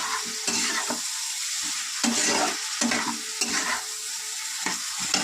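Potatoes sautéing in a pan: a steady bright sizzle with repeated scraping stir strokes at an irregular rhythm, close and fairly loud, no voices.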